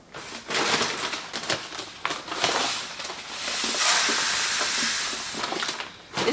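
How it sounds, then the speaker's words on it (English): Gamma lid screwed onto a 5-gallon food-grade storage bucket, a close, continuous plastic grinding and scraping with small clicks and short pauses, moderately loud and alone. "It just screws on and off."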